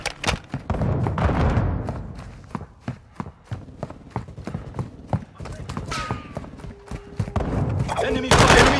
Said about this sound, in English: Enemy fire! Enemy's close!